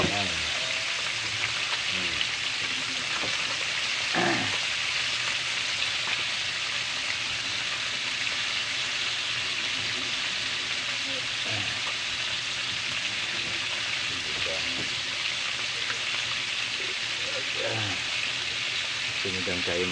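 Fish frying in a pan gives a steady, close, broadband sizzle that runs the full length without a break, with people talking intermittently over it.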